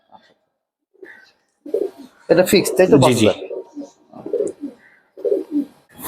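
A pair of domestic high-flying pigeons coo in soft repeated bursts close by, interleaved with someone speaking and a brief louder stretch of talk.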